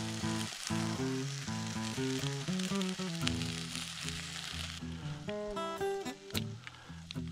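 Fish fries in a cast iron pan on an outdoor firebox stove, a close, continuous crackling sizzle with small pops, sitting under faint tonal background sound.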